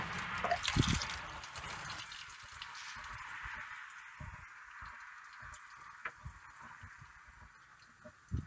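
Antifreeze dripping from the thermostat housing of a John Deere 310G backhoe, faint irregular drips and small splashes into a catch container, heard close with a soft hiss underneath.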